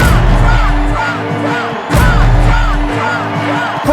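A large crowd at a Trump rally, heard as a dense, loud roar of cheering and whooping voices. It surges again partway through, blending with a rhythmic chant or music underneath.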